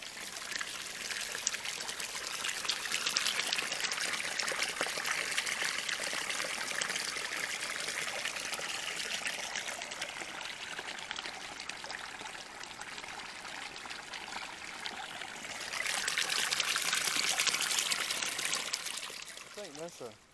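A small creek flows steadily over stones outdoors, a close, loud, continuous rushing and trickling wash that grows fuller near the end.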